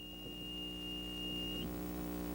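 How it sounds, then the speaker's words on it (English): A single steady high-pitched electronic alarm tone from a centrifuge, lasting about a second and a half before cutting off, over a constant low mechanical hum and drone. "He has to press a button to shut off the alarm."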